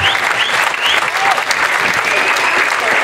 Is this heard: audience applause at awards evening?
yes